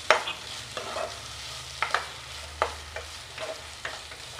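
A spoon stirs tomatoes into masoor dal frying in a pan. Soft scraping strokes and clinks come at irregular intervals over a quiet, steady sizzle.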